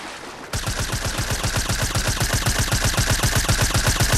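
Rapid automatic gunfire in Fortnite zero-build battle royale as a player shoots down a supply drop, a sustained rhythmic burst of shots starting abruptly and continuing loud and steady.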